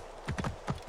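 Horse hooves clip-clop in Assassin's Creed Origins while riding along a beach, a quick run of four or five close, distinct hoofbeats in a galloping rhythm.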